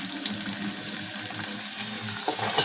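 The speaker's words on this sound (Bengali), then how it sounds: "পেঁয়াজটি একটু সামান্য ভেজে এর মধ্যে দিয়ে দিব আমি আদা রসুন পেস্ট।" Onion and ginger-garlic paste fry in a pan with a steady, close sizzle, mixed with scraping and stirring noises and some watery bubbling, with no voices.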